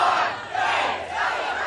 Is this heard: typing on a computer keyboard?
no